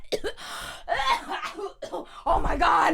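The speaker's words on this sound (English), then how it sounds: "I have to cough." A woman coughs several times in quick bursts, close and fairly loud, with gasping breaths between them and a heavier, sustained cough-like burst at the end.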